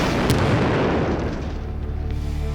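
Large explosion from a trail of burning gasoline reaching a fuel tank: a deep, loud boom opening with a sharp blast, then a long rumbling roll that slowly tapers off.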